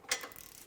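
A torque wrench ratchets on a 14mm mounting nut of a front lower control arm on a 2014-2018 Mazda 3, one short close metallic click followed by a softer trailing rattle.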